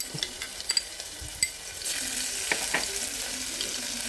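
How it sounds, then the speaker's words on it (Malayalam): Crushed garlic dropped into hot coconut oil with cinnamon, cloves and cardamom for a beef curry, a few clinks and taps followed by a rising, steady sizzle with scattered crackles. "അതൊന്ന് ചൂടായി വരുമ്പോൾ ഞാനിവിടെ വെളുത്തുള്ളി ചതച്ചതിട്ട് കൊടുക്കുന്നുണ്ട്"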